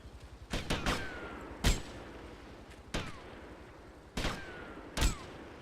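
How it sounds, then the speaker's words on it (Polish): Gunshots in GTA Vice City ring out as several sharp, echoing cracks: a quick cluster of three, then single shots spaced a second or so apart over a low ambient bed. "Coś tu strzela, ale nie jestem pewien co i kto."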